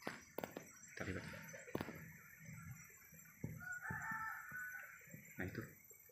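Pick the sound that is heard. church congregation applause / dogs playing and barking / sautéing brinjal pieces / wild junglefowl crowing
wild junglefowl crowing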